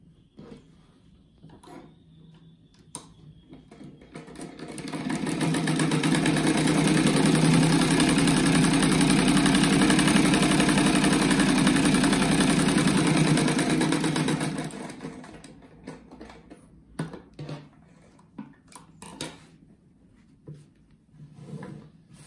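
A sewing machine stitches fabric for a kite-shaped mat, running as a steady, loud mechanical whir for about ten seconds, with handling clicks and rustles before and after.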